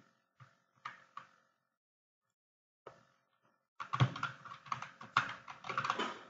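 Quick bursts of keyboard typing on a computer while a banner design is laid out in Adobe Illustrator, a few sparse keystrokes at first, then a pause, then a dense run of clattering keys near the microphone.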